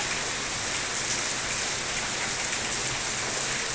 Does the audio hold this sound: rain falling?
yes